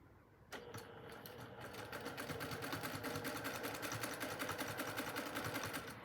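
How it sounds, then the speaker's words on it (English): A sewing machine free-motion stitches a back-and-forth serpentine seam joining pieces of quilt batting, starting up after a short pause and settling into a rapid, even mechanical chatter that stays close and steady. "I'm going to slowly free motion stitch a serpentine stitch that's going to go back and forth, catching both sides of my batting"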